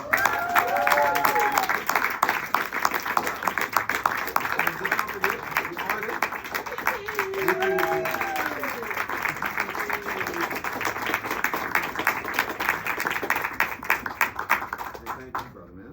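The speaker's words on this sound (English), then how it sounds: "we'd like to give a big round of applause to" An audience at a book signing launch party claps in sustained, dense applause lasting throughout, steady and moderately loud, with voices talking and laughing underneath.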